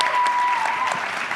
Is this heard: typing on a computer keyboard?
no